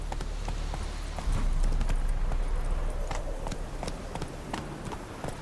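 Roach, Geralt's horse in The Witcher 3: Wild Hunt, galloping with a quick, regular clip-clop of hooves, close and fairly loud over a low rumbling background.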